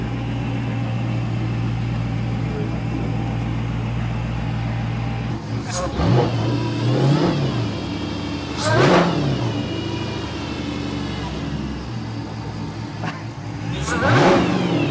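Retired V8 police car fitted with a Hellcat supercharger, its engine idling with a steady rumble and supercharger whine, then revved hard three times, each blip rising sharply and falling back, loud and close.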